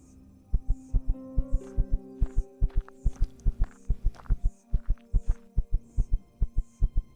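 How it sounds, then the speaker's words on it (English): Heartbeat from low stamina in the video game Empyrion, a steady loud double-thump pulse repeating throughout over a low hum, with faint game tones. "that heartbeat is because I used all my stamina"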